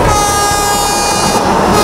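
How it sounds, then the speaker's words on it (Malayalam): Vande Bharat express train approaching from a distance at dusk, a loud, steady rumble with a sustained horn-like tone running throughout, no voices. "നേരം ഇരുട്ടി, ഒടുവിൽ അകലെ നിന്ന് വന്ദേഭാരതിന്റെ ശബ്ദം."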